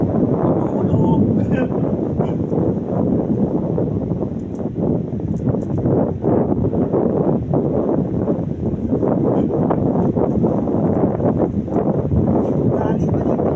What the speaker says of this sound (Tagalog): Hangin pa dito.